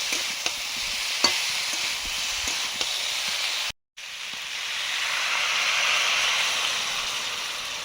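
Cauliflower, kohlrabi and potato sautéing in a pan, a steady broadband sizzle with scraping stir strokes, a brief dropout midway, then the frying hiss swells and continues alone.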